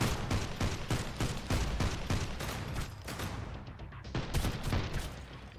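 Turrets fire in the video game Sunkenland, a loud continuous barrage of rapid, evenly spaced shots with booming low thuds, with a brief thinning of the volley before it picks up again.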